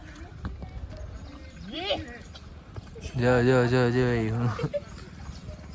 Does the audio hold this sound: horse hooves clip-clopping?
yes